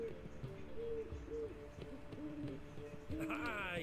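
In The Witcher 3, an owl gives a string of soft, repeated hoots over a low background hum, followed by a rising, fluttering call near the end.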